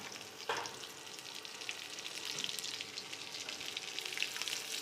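Garlic and dried chili frying in oil make a steady, close hiss with fine crackles and a few louder pops, a broadband sizzle running without a break.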